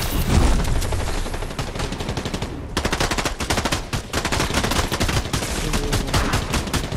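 Rapid automatic gunfire from a heisted weapon in a video game, loud and sustained, with dense bursts of shots that pause briefly and then resume, no voices.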